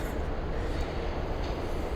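A train rumbles at a station in the game Shin Megami Tensei III: Nocturne, a steady loud low rolling noise with a faint hiss on top, no voices.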